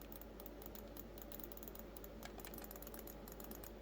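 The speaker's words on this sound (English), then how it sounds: "it's got the A, X, Y, and B buttons that I love from the Wolverine Ultimate. I mean, listen to that." Rapid light clicking of the A, X, Y and B face buttons on a Razer Wolverine-style game controller, a quick, even train of small taps close to the mic with no talk.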